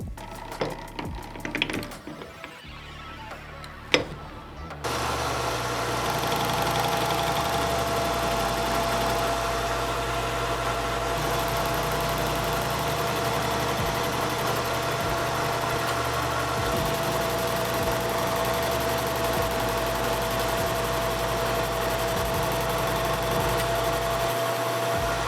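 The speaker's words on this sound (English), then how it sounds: "we'll hold this in the mill vise, and we'll use a cutter on the inside" A milling machine cutting round stock clamped in a mill vise for handmade bicycle U-brake boosters, a steady loud mechanical drone with a sustained whine, preceded by a few seconds of quieter handling clatter.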